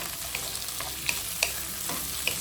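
Large-cut tomatoes with shallots sautéing in a pan for a fish curry gravy, a dense continuous sizzle with a few soft clicks of stirring, close and steady, with no talk.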